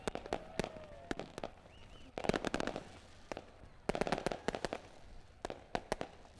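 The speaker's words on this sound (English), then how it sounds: "Lone Wolf Fireworks, lighting up the sky here every Friday night" Fireworks burst over a speedway on a Friday race night, sharp cracks and pops coming in rapid clusters, some distant and some closer, with a faint voice underneath.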